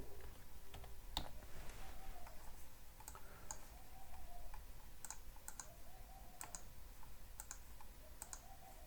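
Text being typed on a computer keyboard, a steady patter of light key clicks with a few sharper taps, close and quiet over a low background hum.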